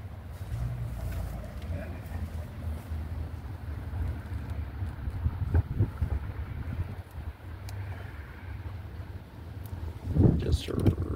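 Wind gusting through an alley rumbles and buffets the microphone with low, uneven roaring that swells sharply near the end, with no clear speech.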